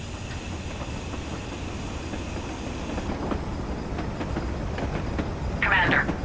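Black 5 steam locomotive in a train simulator game rolling along toward a bridge and sidings, a steady rumbling run with rail clatter throughout and a brief brighter hiss near the end.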